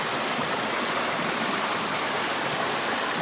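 A Vermont stream flowing hard across a hiking trail, a dense steady rush of water heard up close and alone, unbroken for the whole stretch.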